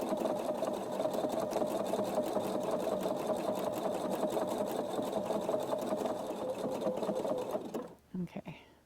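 Sewing machine stitching quilted circles guided by a circle ruler, a steady continuous motor hum running for most of the clip before stopping near the end, followed by brief handling noises.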